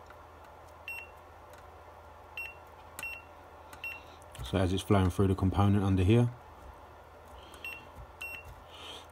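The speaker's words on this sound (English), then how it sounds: "but it creates a little beep" Short electronic beeps from shorted contacts on an ESL daughterboard in a 1998 Subaru Impreza STI, sounding several times, faint and sharp, with someone talking briefly in the middle.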